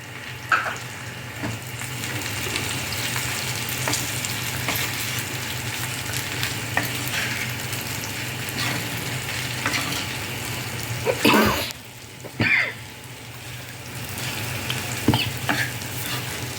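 Okra fries in a pan with coriander powder and chilli, a steady sizzle under repeated scraping stirs, with louder clattering strokes of the spoon partway through and no talking.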